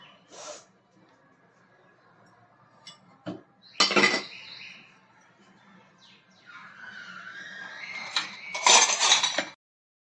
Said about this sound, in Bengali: আমি এবার ঢাকনাটা খুলে নিচ্ছি